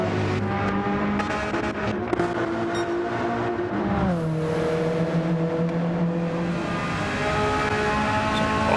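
Porsche race cars on the Barcelona circuit: loud, continuous engine drone with revs climbing and dropping through gear changes as the cars brake into and accelerate out of the turn 1–3 complex.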